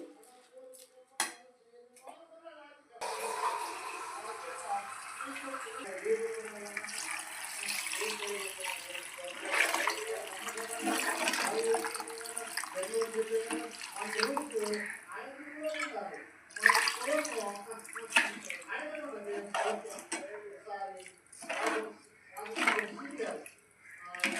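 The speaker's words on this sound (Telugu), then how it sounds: "ఒక లోట బియ్యం పోసాను రెండు లోటాలు నీళ్ళు అయితే ఇందులో పోస్తున్నానండి" Water poured from a vessel into a pot of rice for egg biryani, two measures of water for one of rice: a steady splashing pour with some clinks of the pot, while a person talks over it.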